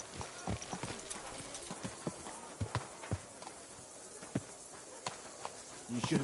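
Horse hooves clip-clopping at a slow walk in the video game Kingdom Come 2, irregular soft thuds against a quiet background.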